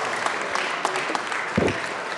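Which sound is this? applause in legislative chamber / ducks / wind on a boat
applause in legislative chamber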